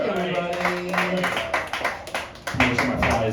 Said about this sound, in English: keep that round of applause going for Max Blake, everybody